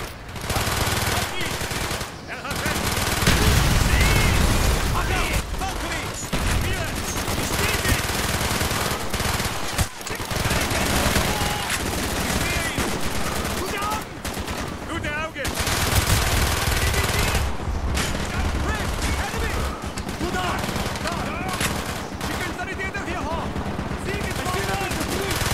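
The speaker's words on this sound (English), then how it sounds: "I was shooting Petrenko" Sustained video game gunfire from Call of Duty: Black Ops on PC plays loud and close, with rapid machine-gun bursts and single shots repeating throughout, plus brief quieter gaps. A voice talks over parts of the shooting.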